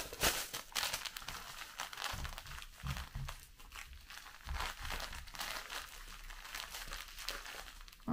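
A plastic packaging bag from an online order is handled up close, giving repeated crisp crinkles and rustles that rise and fall for several seconds, with no speech.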